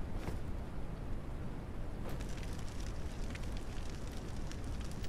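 Firewood burns under a cooking pot in a survival video game, a steady broadband crackling roar with occasional sharper pops, close and continuous throughout.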